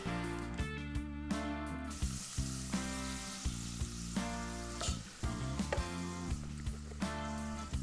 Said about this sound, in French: on va commencer par faire fondre le beurre dans la casserole